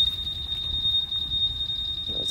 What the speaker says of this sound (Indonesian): Ini alarm aktif. Kena getaran, dia bunyi gitu ya.